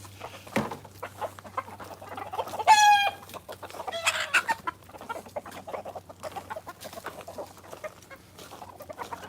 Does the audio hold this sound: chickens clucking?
yes